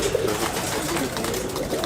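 A small Malwai pigeon, a young female with white eyes, gives soft low coos close by against a busy background murmur.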